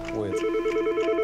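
An incoming call sets a telephone ringing in a staged prank on phone scammers, a steady ring of evenly spaced electronic tone pulses that repeats close by after a brief voice at the start.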